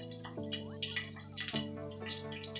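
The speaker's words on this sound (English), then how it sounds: "I'm just going to pour off some of this fat" Bacon fat pours off a hot pan in a thin trickling, dripping stream, faint and close, over a steady tonal hum from the kitchen.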